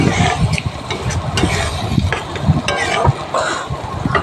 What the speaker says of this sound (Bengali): আস্তে আস্তে করে নেড়ে আমি একটুখানি মশলা ধোয়া জল দিয়ে দিয়েছি এখানে